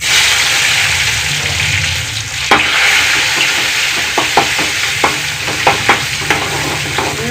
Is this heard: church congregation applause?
no